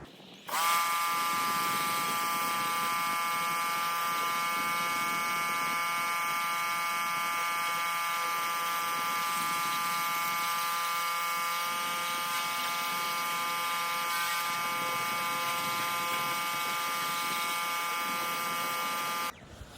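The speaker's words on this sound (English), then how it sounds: "I'll go set up the pressure washer and I'll be back." A pressure washer runs while cleaning a Holden panel van, a loud steady motor whine with strong tonal harmonics that starts abruptly, holds for about eighteen seconds, then cuts off.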